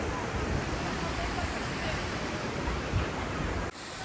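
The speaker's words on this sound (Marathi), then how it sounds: "वॉटरफॉल माझ्या बॅक साईडला वॉटरफॉल आहे" Waterfall: a continuous, loud broadband rush of falling water fills the scene without pause, with only a brief dip near the end.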